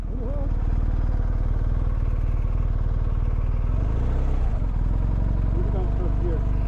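A motorcycle engine idles loudly and steadily up close on a mountain tour in the Pyrenees, a low continuous throb that shifts slightly partway through, with voices speaking over it.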